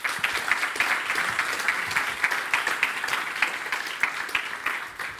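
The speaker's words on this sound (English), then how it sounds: "let's have a huge round of applause for Loxo" Applause at a European startup prize ceremony for mobility, a crowd clapping steadily at moderate volume, with individual claps standing out across the full duration.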